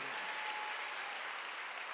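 Steady applause from a church congregation during a Wednesday worship service, a dense even wash of clapping with no break.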